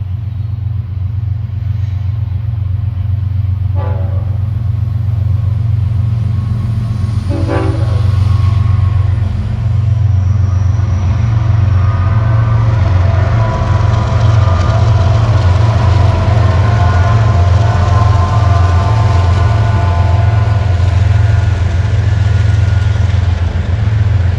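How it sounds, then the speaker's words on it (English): A northbound BNSF manifest freight with three ES-44 locomotives at the head end passes near Mammoth Spring, Arkansas, giving a loud, steady rumble of rolling cars and engine drone throughout, with two brief horn-like tones early on. "Three BNSF ES-44s are the head end of this manifest train."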